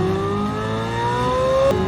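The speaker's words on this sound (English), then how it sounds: "So not only am I hearing induction noise, I and everybody else in Pennsylvania is hearing the exhaust." Chevrolet Corvette C8 Z06 engine and exhaust climbing steadily in pitch under acceleration, loud and close, with a rising harmonic whine that peaks and shifts near the end, no talk over it.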